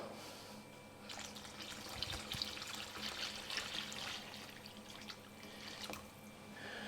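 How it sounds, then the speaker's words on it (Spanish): Water pours steadily into a Valencian paella of chicken and rabbit cooking in the pan, a continuous close splashing and trickling with no voices. "Entonces tengo que añadir agua."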